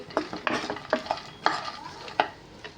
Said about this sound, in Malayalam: നമുക്ക് നന്നായിട്ട് റോസ്റ്റ് ചെയ്തെടുക്കാം